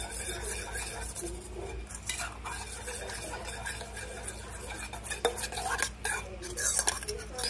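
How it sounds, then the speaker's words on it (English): Meatloaf topping stirred in a bowl, a spoon scraping and clinking steadily against the sides at close range, quiet, with brief louder knocks toward the end. "Get it stirred up in here."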